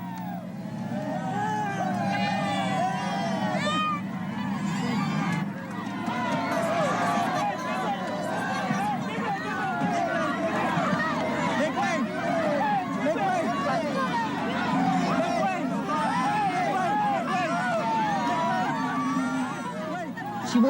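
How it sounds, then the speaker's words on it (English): A crowd of supporters surges around Imelda Marcos in Hawaii, a steady babble of many voices and movement, with a narrator speaking over it throughout. "The crowd surged forward to envelop her in support, to comfort her."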